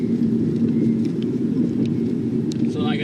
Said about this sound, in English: now you can barely hear us over the rumbling of the car